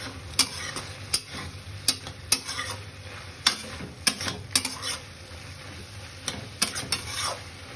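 Paneer and cauliflower masala is stirred as it fries in a pan: sharp, irregular clacks of a spoon against the metal over a low, steady sizzle, close up with no talk.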